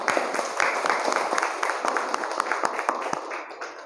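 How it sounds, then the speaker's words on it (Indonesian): Classroom students clapping together in response to a teacher's call, a dense, steady burst of many hands close by lasting a few seconds. "Tepuk tangan untuk kalian semua"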